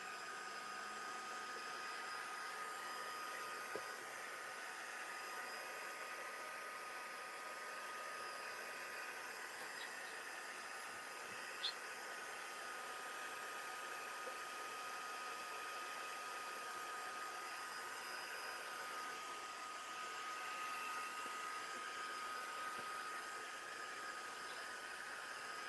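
A dryer blows a steady, even whooshing hum over a mixed media artwork for the whole stretch, constant and moderately close, with a couple of small clicks along the way.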